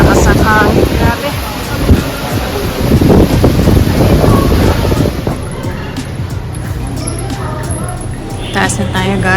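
Strong wind roaring and buffeting the microphone, then easing, with people talking over it and water rushing in the background.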